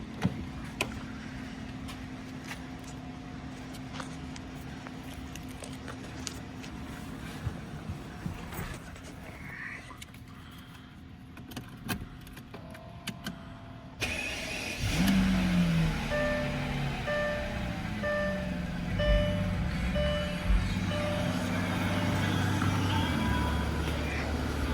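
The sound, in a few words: 2001 Mercedes-Benz CL600 cold engine start and revving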